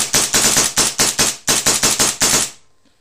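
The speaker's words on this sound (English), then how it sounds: "It'll shoot paint like this, but it's shooting at incredibly low velocities." A paintball marker firing paint at low velocity lets off about a dozen sharp, evenly spaced pops in quick succession, loud and close, then stops and falls silent.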